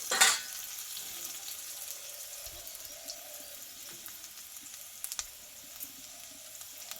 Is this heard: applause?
no